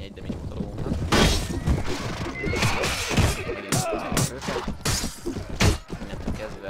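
A horse whinnies when struck during battle in a Mount & Blade Warband mod, sharp neighs among crashing impacts and clattering combat noise, fairly loud and close.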